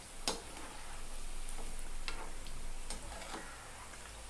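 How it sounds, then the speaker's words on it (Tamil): Manchurian balls fry in hot oil with a steady, fairly quiet sizzle, and a few soft clicks of a spoon or ladle stirring sound over it. "2 நிமிஷமாக எண்ணெயில் நல்லா வேக விட்ருக்குறோங்க. இப்போ நம்ம கிளறி விட்டுக்கலாம்."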